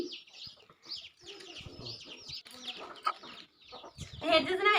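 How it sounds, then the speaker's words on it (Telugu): Chickens cluck repeatedly nearby in uneven bursts, with a louder squawking flurry toward the end and faint background voices. "మా ఇంట్లో అయితే కోళ్ళు ఉన్నాయండి ఆ కోళ్ళ సప్పు కూడా ఒక డిస్టర్బెన్స్"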